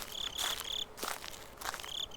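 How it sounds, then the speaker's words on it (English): Steady high-pitched cricket chirring from a video game, in repeated bursts, with a faint rustle of footsteps in the background. "you got the crickets chirping"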